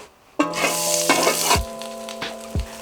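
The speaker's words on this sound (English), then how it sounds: "I'm cooking on a stove in the 1800s." A quesadilla sizzles and fries on an old 1800s wood-burning stove, a loud steady crackle starting abruptly, with a couple of low scraping stirs near the end.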